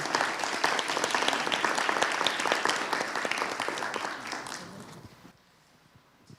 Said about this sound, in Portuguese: convidar todos aqui para uma salva de palmas para os participantes